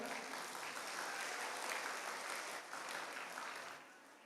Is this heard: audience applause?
yes